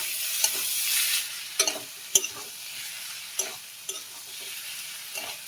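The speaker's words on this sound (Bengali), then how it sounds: "সব মশলা দিয়ে আমার ভালো করে কষানো হয়ে গেছে" Spices are sautéed with chopped banana flower and prawns in a pan, a close sizzle broken by repeated sharp scrapes and clinks of a spoon stirring at irregular intervals.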